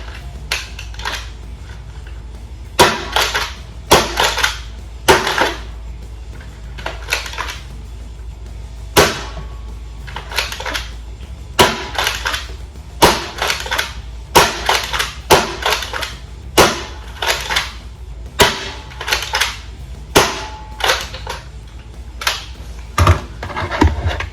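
Jurassic Pro toy dart blaster fired repeatedly, a long series of sharp plastic clacks and snaps, often in quick pairs, close and loud over faint room noise.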